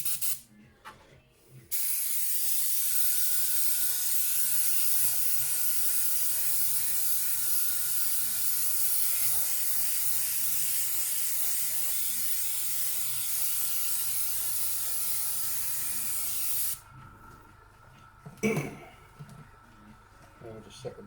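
An airbrush sprays liquid mask onto an RC car shell with the compressor just under 60, producing a long steady hiss lasting most of the clip, bracketed by short handling clicks and quiet moments before and after.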